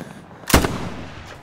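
A single sharp, loud rifle shot cracks out in the Hell Let Loose video game, followed by a brief decaying echo over quiet background.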